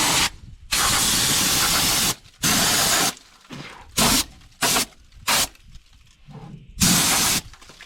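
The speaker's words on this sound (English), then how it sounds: "we do have an air hose out here today, so we can spray all this stuff off" An air hose blasts dust off a 1969 Chevy truck engine in loud, close hissing bursts of varying length, separated by brief pauses.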